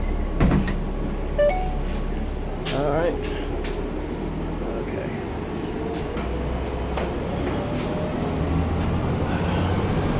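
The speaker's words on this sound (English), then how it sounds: "I gotta get on this bus." Steady low rumble of a bus interior with doors and windows clattering, a constant engine drone throughout, and a person talking briefly over it.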